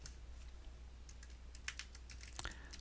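A file name is typed on a computer keyboard in short, quiet bursts of clicky keystrokes, with a low steady hum underneath.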